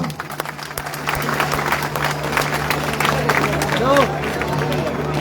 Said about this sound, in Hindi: एक बार दैया साहब के नाम की जोरदार ताली बजा दो।